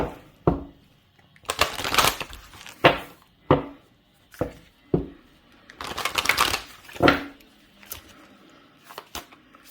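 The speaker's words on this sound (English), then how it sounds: "I'm actually going to pull a card from the Moonology deck" A Moonology oracle card deck being shuffled by hand: several bursts of riffling, papery card noise separated by sharp taps and knocks as the deck is squared, close and loud, with no talk.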